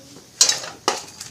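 Puffed rice stirred and heated in oil in a pan, giving two short bursts of scraping, rattling grain-and-metal noise about half a second apart, close and moderately loud with a faint hiss between.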